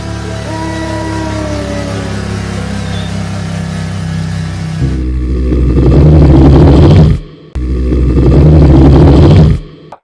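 Cartoon sound effect of a motorbike ridden by a fox and a tiger: after a stretch of tonal music, two loud, roaring engine revs surge up close, separated by a brief cut-off gap.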